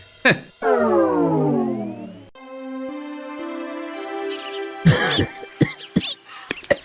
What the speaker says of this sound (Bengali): আপনার তো দেখছি ভালোই কাশি হয়েছে